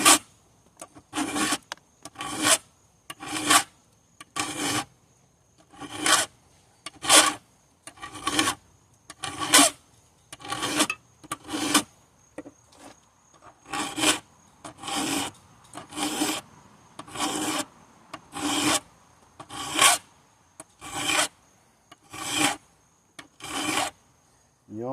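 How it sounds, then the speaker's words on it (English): Hand file rasping across chainsaw teeth and depth-gauge rakers in steady repeated strokes, each a short gritty scrape followed by a brief pause, close and clear with no talking. "You always want to hit your rakers before you sharpen the teeth, because sometimes you unintentionally, hit the tooth with this, and so it's always good to just file the teeth"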